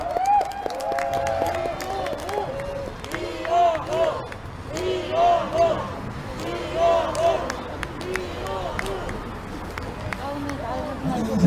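A crowd at a Korean Democratic Party campaign rally in Goyang applauds and cheers for a candidate, sustained clapping and babble swelling in waves under a loud amplified voice.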